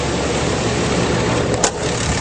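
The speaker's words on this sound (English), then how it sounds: "under the hood, nice clean engine bay, running very smoothly" A 2011 Ram 2500 with the 6.7L diesel sits idling under an open hood, a steady, even engine rumble and hiss heard up close with no one speaking.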